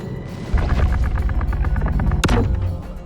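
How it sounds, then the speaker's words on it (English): A missile explosion during an outpost battle in Star Citizen 3.17: a deep, sustained rumbling boom with dense low thuds, capped by a sharp blast burst near the end before fading. "I think someone tried to lay a missile down"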